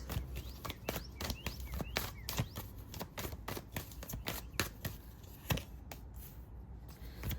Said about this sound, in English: I'm going to be live shuffling for you.